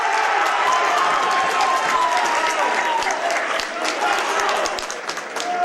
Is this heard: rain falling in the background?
no